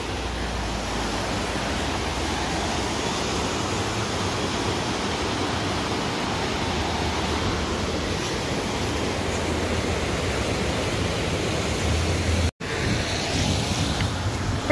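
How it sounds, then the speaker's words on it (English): A river swollen after a storm on the Appalachian Trail near Helen rushes past as a steady, loud, broadband roar. It stays constant and close throughout with only a momentary dropout, and no one speaks. "Look at that river roaring from the storm this morning / last night."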